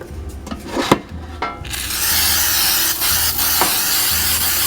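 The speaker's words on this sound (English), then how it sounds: "spray your 9x13 pan." Baker's Joy baking spray hisses onto a 9x13 baking pan in one steady, fairly loud burst lasting about three seconds, preceded by a few light taps and rustles.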